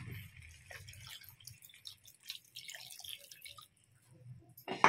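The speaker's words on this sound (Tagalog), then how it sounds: "Yan, tapos lagyan na natin ng tubig." Water poured into a cooking pot of chicken adobo with potatoes, a soft steady trickle and drip close by, ending in a louder splash.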